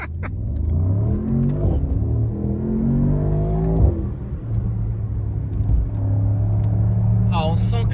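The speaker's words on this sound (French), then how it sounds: "on se fait une dernière accélération" A Mercedes AMG SL 63 accelerating hard from inside the cabin, the engine note climbing through gears in rising sweeps with brief shift dips, loud and continuous while people talk over it.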